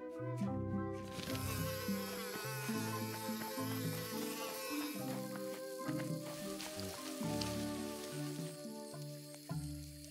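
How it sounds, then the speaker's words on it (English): Dense, steady buzzing of bees swarming around a busy beehive in the adventure game Return to Monkey Island, droning continuously over a bouncy tonal music score. "A busy beehive."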